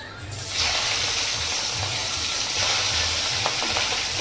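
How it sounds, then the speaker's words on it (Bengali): Prawns frying in hot mustard oil in a heated kadai set off a sudden bright, hissing sizzle that holds steady and fairly loud for several seconds, with a low murmur underneath. "কড়া গরম হয়ে যাবার পর সর্ষের তেল দিয়েছি পরিমাণ মতো, চিংড়িগুলো ভাজবো বলে"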